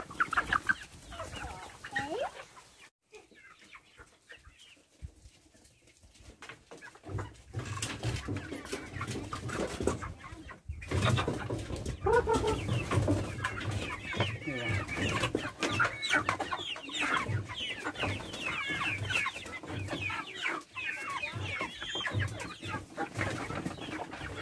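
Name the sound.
chickens clucking as they follow the feed container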